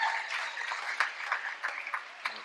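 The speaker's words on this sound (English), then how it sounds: "Give them a hand of applause." Graduation-ceremony applause for 2017 graduates: a moderately distant crowd clapping steadily with a few sharper individual claps poking through, fairly soft overall.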